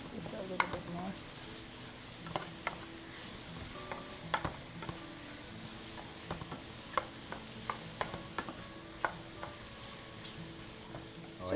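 A beef and tomato stir-fry sizzles softly in a pan while a utensil scrapes and taps against it in scattered, sharp clicks throughout.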